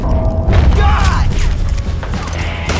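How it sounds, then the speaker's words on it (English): Mechanical clicks and clunks of a gun being reloaded in Red Dead Redemption 2, loud and close over a rumbling game soundscape with scattered thuds, lasting a few seconds. "This gun is taking a very long time to load."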